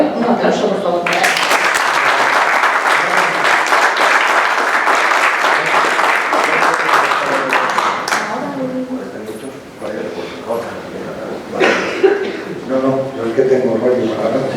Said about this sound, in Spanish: Un aplauso, por favor, para él.